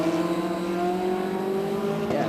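GT race cars, a Porsche and a Ferrari, roar along a circuit in Japan with sustained high-pitched engine whine and shifting revs, loud and continuous, with a commentator's voice faintly under the engines.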